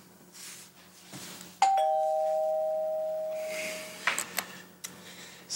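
Doorbell chime announcing a delivery, a single clear two-tone ring that sustains and slowly fades, followed by faint rustling and small bumps in a quiet indoor room, no speech.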